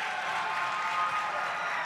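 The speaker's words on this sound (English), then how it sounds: "The crowd is loving it." Steady applause and crowd noise fill a high school basketball gym during a third-quarter break, a dense continuous wash of clapping at moderate distance with no distinct voices.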